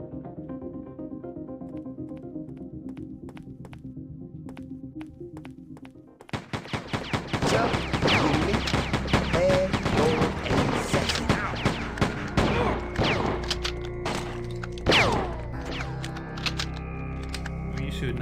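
Rapid gunfire in a Davilex video game, loud bursts and rattling volleys starting abruptly after a quieter musical stretch and continuing densely to the end.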